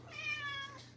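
A cat gives one short, high meow, close by but fairly quiet, with a slight rise and fall in pitch.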